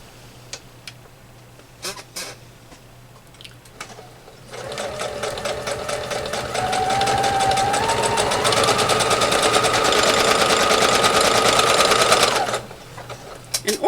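Sewing machine stitching quilt sashing with a 1/4 inch piecing foot, starting after a few faint clicks and running as a steady, loud mechanical whir for about eight seconds before stopping.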